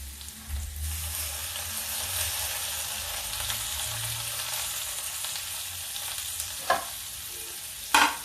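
Tomatoes frying in a hot pan with a loud steady sizzle and hiss, then a couple of brief spoon or utensil clinks near the end.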